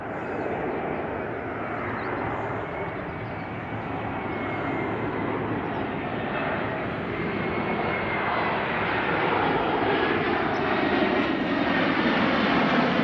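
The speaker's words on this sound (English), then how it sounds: "Alaskan Airlines. Coming in for a landing." An Alaska Airlines jet comes in to land near a rose garden in San Jose, California, a loud, continuous roar that grows steadily stronger as it nears, with no voices.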